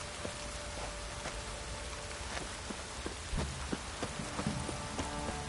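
Steady rain falls in The Witcher 3, a dense hiss of drops on surfaces running throughout, with a few sharper taps and faint game tones underneath; no one speaks.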